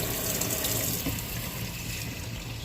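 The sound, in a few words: water running while rinsing out engine coolant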